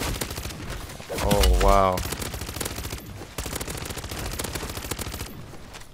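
Rapid automatic gunfire from a weapon in MW3 Zombies, a dense, fast stream of shots running almost without pause, with a brief exclaiming voice over it.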